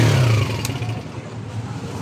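A 2005 Honda Mulawin motorcycle engine with a dry exhaust runs close by, a loud rough idle with a brief rev at the start that settles into a steady mechanical drone.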